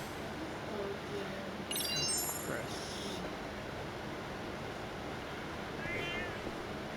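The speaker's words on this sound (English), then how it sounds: "Is there a cat? I hear a cat" A cat meows briefly in the game The Kaito Flies, two faint, short calls standing out over a steady windy ambient bed with muffled background talk.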